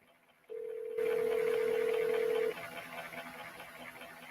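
A phone call rings out over the line: a steady single-pitch tone sounds for about two seconds against a faint background hum, with no one speaking.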